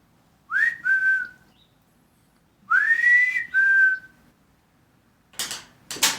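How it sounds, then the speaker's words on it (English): A person whistles to call a bird trapped in a laundry room, giving two pairs of rising, sustained whistles in a quiet room, followed by a couple of brief rustling noises. "whistle for the bird"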